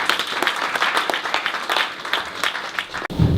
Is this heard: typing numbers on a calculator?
no